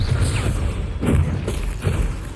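Bombarda spell blasts in the Hogwarts Legacy video game, a few heavy booming thuds at roughly half-second intervals over a loud rumbling combat din.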